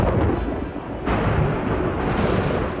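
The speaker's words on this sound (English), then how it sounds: "a violent storm hit the army" A violent thunderstorm in the Age of Empires 4 video game, with deep rolling thunder rumbling over steady heavy rain, loud and continuous with a sharper crack partway through.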